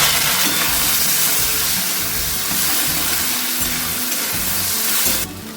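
Chopped tomatoes dropped into grated coconut frying in oil, giving a loud steady sizzle and hiss close up that holds for several seconds before abruptly quietening near the end.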